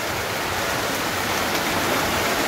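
Steady rain falling outdoors during a barbecue, a dense continuous hiss of drops on surfaces, loud and uniform with no voices.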